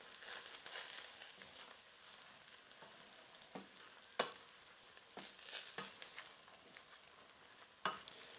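Chilies, almonds and raisins toast in a hot pan, giving a soft continuous sizzle and crackle broken by scattered sharp pops and clicks of stirring, fairly quiet and close with no voices.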